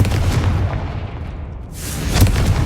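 Confringo fire-blast spell in the video game Hogwarts Legacy: booming, crackling explosions with a burst at the start and another loud blast near the end, over a steady rumbling game soundscape.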